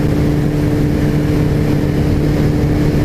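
Suzuki GS850 motorcycle engine running smoothly while riding, a loud, steady, close drone with constant wind rush and no sputtering.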